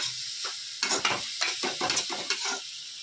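Kalakai fry being stirred in a pan, a soft sizzle under a quick series of close scraping and clinking strokes from a spoon against metal, about eight in a row, with no voices.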